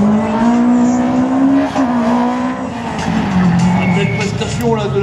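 A Renault Clio rally car, number 76, races through a slalom event, its engine droning loudly and steadily with rising and falling revs close by, under continuous commentary.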